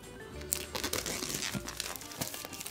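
Plastic packaging of a DJI FPV extra battery pack being carefully unwrapped, close crinkling and crackling with small tearing sounds, continuous throughout the short stretch with no talk.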